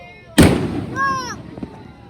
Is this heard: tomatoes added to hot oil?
no